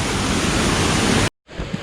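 A jungle waterfall pours as a dense, steady roar of rushing water, loud and close, cutting off abruptly to brief silence before returning more faintly.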